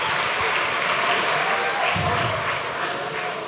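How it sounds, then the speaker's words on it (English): Continuous applause from a school talent show audience, a steady wash of clapping that holds at an even level throughout without any talking. "Can we give these guys another round of applause behind me?"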